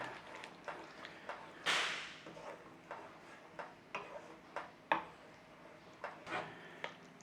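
A spoon stirs sugar into a Punjabi chicken masala curry in a pot, giving faint, irregular taps and scrapes at close range, with one louder scrape near the start.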